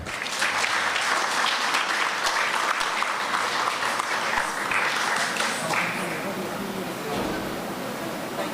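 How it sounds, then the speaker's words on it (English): Audience applause for a bhajan singing group at a cultural competition, loud sustained clapping throughout with faint voices mixed in, easing slightly toward the end. "give a lusty round of applause"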